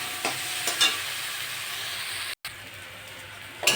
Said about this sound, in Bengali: আমি এবার আলুগুলো দিয়ে দেবো, ভালো করে কষে নেবো।